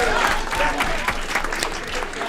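Dense crowd applause at a city council meeting honoring a champion, a continuous close wash of many hands clapping with murmured voices mixed in beneath.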